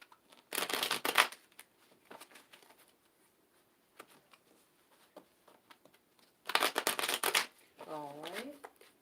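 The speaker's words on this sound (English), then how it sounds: "We're going to shuffle." A deck of cards shuffled in two quick riffling bursts, close and crisp, separated by quiet; a voice speaks briefly at the end.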